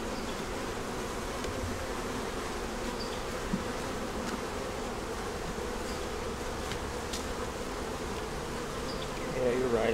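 Many honey bees buzz continuously around a hive, a dense steady hum filling the whole stretch with no talking.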